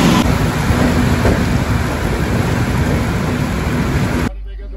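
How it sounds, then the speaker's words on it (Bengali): Heavy rain pours down at Bankura railway station, heard from a train doorway as a loud, dense, steady roar that cuts off abruptly near the end. "বাঁকুড়া স্টেশনে মুসুলধারে বৃষ্টি হচ্ছে"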